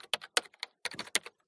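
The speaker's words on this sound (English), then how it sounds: "you like the typewriter?" Quick, irregular bursts of typewriter key strikes, about a dozen sharp clacks in two clusters separated by a brief pause, crisp and close.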